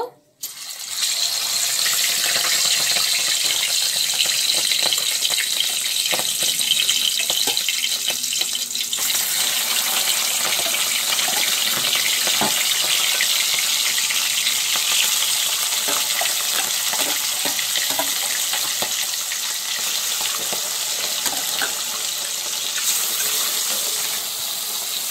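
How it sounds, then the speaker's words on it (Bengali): Rohu fish pieces fry in hot oil in a pan, giving a loud, continuous hissing sizzle that holds steady for the whole stretch, with faint scattered clicks and spatters. "এই মাছটাও আমি সেম লাল করে ভেজে নেব"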